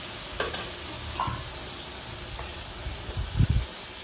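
Ash gourd is sautéed in a pan for a Bengali chokka, with a few close, brief scraping stirs of a spatula against the pan over a soft, continuous sizzle, ending in a louder cluster of scrapes.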